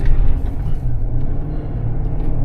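A 2022 armored GMC Yukon XL Denali rolls along under engine power, heard from inside as a loud, steady low rumble with road drone and no one talking.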